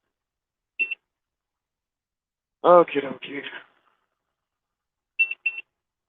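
A computer in the background gives short, high electronic double beeps, once near the start and again near the end, with a brief spoken word in between.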